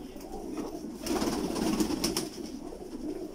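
Pigeons of a champion breed cooing and stirring in a loft, soft low continuous calls with some flutter, fairly faint and close, no voices.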